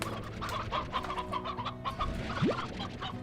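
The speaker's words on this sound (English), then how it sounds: "Oh, a lot of chickens." Chickens clucking in the video game Slime Rancher, a dense chorus of overlapping clucks and fowl calls with a steady farmyard murmur behind them and no talking.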